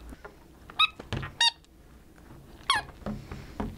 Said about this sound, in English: So shake the ball. Let's see what happens. What do you hear? Noise. Some squeaks.